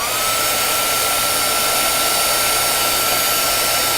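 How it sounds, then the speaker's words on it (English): A heat gun blows steadily to melt metallic embossing powder, a constant loud whooshing hum of hot air with no pauses or talking. "I'm going to let my heat gun heat up, and I'm going to slowly move across the image until I see it embossing."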